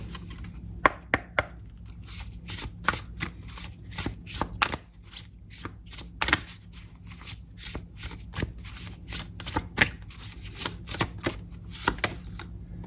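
Tarot cards being shuffled by hand, a close, quiet run of sharp riffling flicks and soft slaps that repeat in uneven bursts over a low hum.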